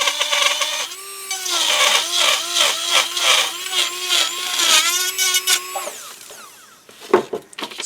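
A small rotary dental recess burr spins while enlarging holes in a denture, whining in a steady pitch that dips repeatedly as it bites into the material, then stops with a few faint handling clicks.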